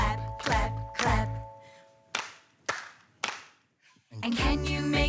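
Several sharp hand claps in a children's action song, each one loud and close, falling in small bursts amid sung phrases and music.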